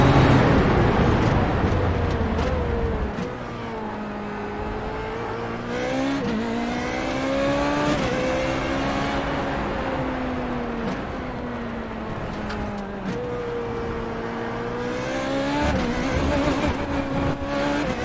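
A race car engine in the iRacing sim on a stock setup revs hard and climbs through gears, with repeated rising whines and brief drops at shifts, loud, close and continuous with no talking.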